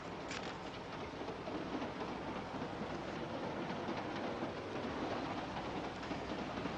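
A 1946 train carriage rolls steadily along the rails, giving a constant broad rumble and rush with faint clatter throughout, and no voices over it.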